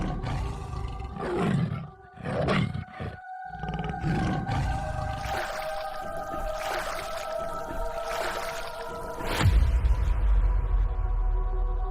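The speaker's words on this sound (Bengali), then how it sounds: "বেকা, আশেপাশে বাঘ আছে, কাছাকাছি নৌকা দাঁড় করাস না।" A tiger roars close by in a riverside forest, several deep drawn-out roars spaced across the stretch, loud and unaccompanied by talk, ending with a burst of low rumbling noise.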